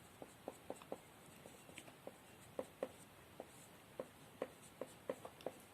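A pen scratches an answer onto paper in quick, faint strokes with short pauses, close by in a quiet room.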